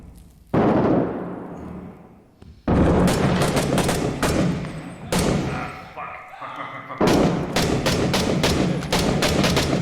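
Loud gunfire and machine-gun bursts in the military shooter game 6 Days in Fallujah, heavy clustered volleys separated by brief lulls, with thuds and impacts and players talking over the shots.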